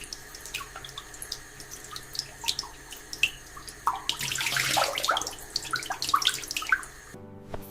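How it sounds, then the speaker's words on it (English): Water runs and splashes at a sink during handwashing, a close trickle that swells into a fuller gushing stream midway, then cuts off abruptly near the end. "Look at all the foam going down the drain, taking every single germ away."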